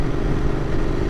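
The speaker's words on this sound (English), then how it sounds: "how it sounds with the Powerage exhaust slip-ons" Royal Enfield Interceptor 650 twin with Powerage slip-on exhausts, a steady low, throaty idle rumble that stays even and fairly loud for about a second, with no voices.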